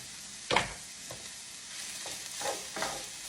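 Garlic sizzling in a frying pan while making a creamy sausage pasta, with a soft steady fry and a few distinct scraping stirs, close and fairly quiet, with no talk.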